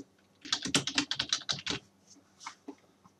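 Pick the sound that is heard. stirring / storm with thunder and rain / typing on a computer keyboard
typing on a computer keyboard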